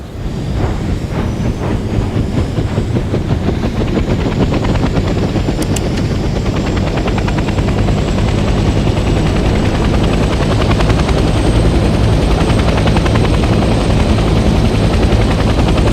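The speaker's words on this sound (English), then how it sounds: "The helicopter will now take off automatically and remain in a hover state." A transport helicopter in Hell Let Loose: Vietnam lifts off and holds a hover, its rotor beating in a steady, loud, dense thrum that fills the whole stretch with no voices.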